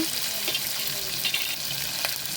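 Onions sizzle steadily in a hot pan for palak rice, a close, continuous bright hiss with small crackles and an occasional soft stir, no voices.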